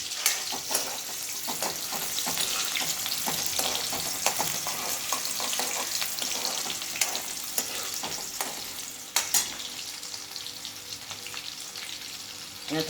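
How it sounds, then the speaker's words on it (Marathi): Chopped onion sizzles steadily in hot oil for gobi matar dry sabzi, a dense continuous frying hiss with occasional scrapes and clinks of a spoon, loud and close with no talking. "कांदा घालून घेते"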